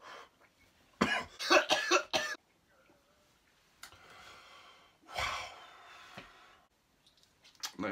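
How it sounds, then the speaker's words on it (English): A person coughs after smoking cannabis, a tight cluster of harsh coughs followed by rough breathing, a longer hacking fit a few seconds later and a final cough, close to the mic. "Just dealing with coughing"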